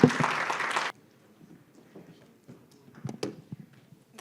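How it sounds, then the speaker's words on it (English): Audience applause following a talk on digital inclusion at a conference: a loud burst of clapping for about a second that stops abruptly, followed by faint scattered sounds and a few soft knocks. "Please give it a big round of applause."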